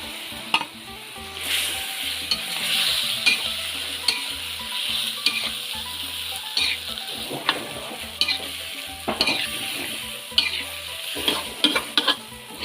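Eel boiling in a pot as prepared vegetables are added and stirred: irregular scraping, clinking stir strokes over a soft bubbling simmer, with no voices.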